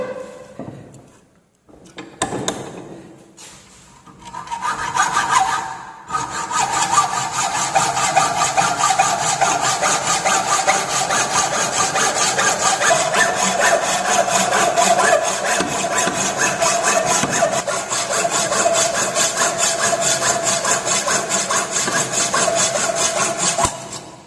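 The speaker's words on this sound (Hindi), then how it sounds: "अब इसे कटिंग करके हम निकालेंगे। अब हम इसे काट के अलग करेंगे।" A hand hacksaw cuts through a chain-drilled metal workpiece for an ITI fitter practical exam. After a few tentative strokes it settles into a long, loud, steady rasping rhythm of close sawing.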